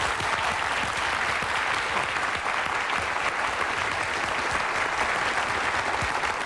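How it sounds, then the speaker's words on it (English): A studio audience on a television talk show applauds as actor Robert Loggia comes on, a loud, dense, steady wash of clapping that goes on throughout without a break. "the audience erupted into spontaneous applause"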